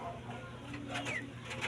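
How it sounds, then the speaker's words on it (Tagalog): Birds call outdoors over a steady low background hum. A pigeon coos softly, and a few short, thin chirps come through near the end. "At dyan may mga ibon dyan guys."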